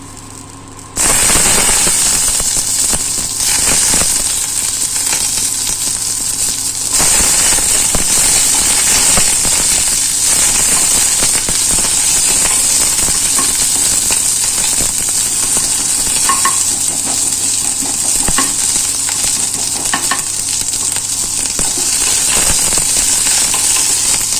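Onion frying in hot oil for a Manipuri-style ridge gourd curry, a loud, steady sizzle with crackling and stirring that starts abruptly and continues without pause.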